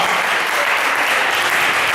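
An audience at a Black History celebration gives a round of applause, a loud, close, continuous wash of many hands clapping with no pauses.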